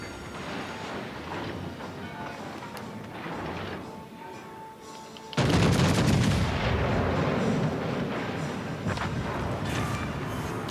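Warship main guns firing in World of Warships: Legends, with World War One battle cruisers in a naval battle: a sudden loud blast opens a dense rumbling barrage of repeated cannon fire over continuous game noise.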